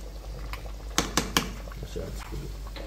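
Jamaican oxtail stew simmering in a pot, a low bubbling bed with three sharp knocks of a utensil against the pot and faint liquid stirring after.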